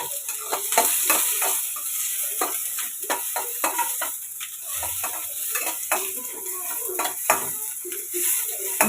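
Fish pieces fry in a hot pan for a Mangalore-style fish sambar, a steady close sizzle with repeated scraping and clinks of a utensil stirring against the pan, no voices.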